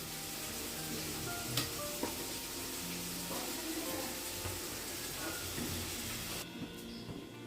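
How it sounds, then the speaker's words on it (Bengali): Egg curry with coriander leaves simmers on a gas stove, a soft continuous sizzle and bubbling hiss with faint clinks, quiet and close. "একদম ধনে পাতা টাতা সব দেওয়া হয়ে গেছে আর একটু ফুটতে দিয়েছি ফুটুক"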